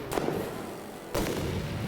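Two heavy tank cannon shots in the War Thunder video game, each a loud booming blast, about a second apart, with rumbling decay and no talk.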